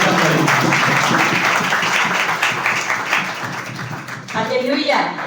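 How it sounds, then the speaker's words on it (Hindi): A church congregation claps to welcome a speaker, with loud dense applause filling the room while a voice talks over it. "आइए ताली बजाकर जोरदार दीदी को वेलकम करेंगे।"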